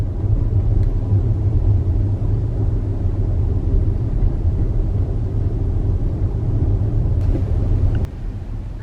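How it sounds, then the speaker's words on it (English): A Tesla car drives through historic Oakwood on a holiday morning, with a continuous low road rumble and cabin hum that stays steady throughout and eases slightly near the end. No speech. "Thought I would spend a minute driving through historic Oakwood this morning"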